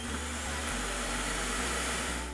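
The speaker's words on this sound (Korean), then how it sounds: "자동으로 얘가 한 바퀴 다 돌고 나서 클린 베이스로 가서 자동으로 먼지통을 싹 비워줍니다" An iRobot Roomba i3+ clean base automatically emptying the robot vacuum's dust bin, a loud, steady suction roar with a low hum shifting in pitch a few times, no voices.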